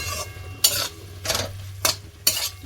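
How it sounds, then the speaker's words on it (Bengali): Fried okra stirred into a tomato masala in a pan, four distinct scraping stirs of a spoon against the pan at irregular intervals over a low sizzle, close and alone. "এবার দিয়ে দেবো এর মধ্যে ভেজে রাখা ঢ্যাঁড়সগুলো, দিয়ে সামান্য একটু নাড়াচাড়া করে পরিমাণ মতন জল দিয়ে দিতে হবে।"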